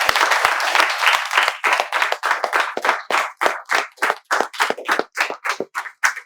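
A spoken-English class of students clapping in welcome: first a continuous burst of applause, then settling into loud, evenly spaced rhythmic claps together, close by.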